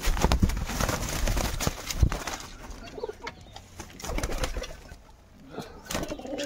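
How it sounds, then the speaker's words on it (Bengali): Pigeons in a home loft coo in low, repeated throaty calls, with shuffling and wing flutters in between, close and varying in loudness. "সব কবুতর এদিকে চলে এসছে আমার"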